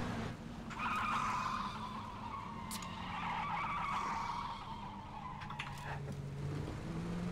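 A car in the battle royale game PUBG drives with a steady engine drone and tires skidding and squealing in long sliding sweeps, loud and close, with no talking.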